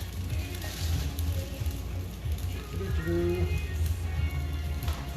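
Spinach being stirred in to wilt in a pot of chicken gnocchi soup, a steady close sizzle and gentle simmering bubble running throughout with soft stirring scrapes.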